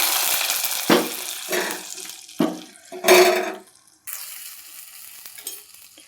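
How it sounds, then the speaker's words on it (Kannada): Hot tempering of garlic and curry leaves hits a pot of palak dal khichdi, bursting into sharp sizzles and hissing splutters in several loud surges before settling into a softer bubbling. "ಇವಾಗ ಈ ಒಗ್ಗರಣೆನ ಇದರಲ್ಲಿ ಹಾಕ್ತಾಯಿದ್ದೀನಿ ನಾನು"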